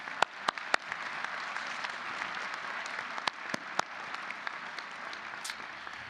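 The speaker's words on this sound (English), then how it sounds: "Let's give these individuals a round of applause." Sustained applause for faculty and staff at a Bowling Green State University spring commencement, a dense steady clapping from a large audience with a few sharp, close claps standing out.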